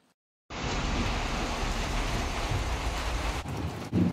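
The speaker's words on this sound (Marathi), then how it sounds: "पाऊस चालू झालाय. छान एकदम गडगडत आहे इकडे." Steady heavy rain pours down at a village house after a sudden start, a dense continuous hiss with a faint low rumble of thunder beneath it and no one talking.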